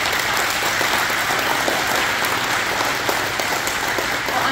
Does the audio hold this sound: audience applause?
yes